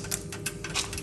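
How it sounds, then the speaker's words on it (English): A few dry clove grains drop into a container, giving a handful of small, light ticks and clicks scattered across a short moment, close and fairly quiet. "we're gonna put a few grains inside of it"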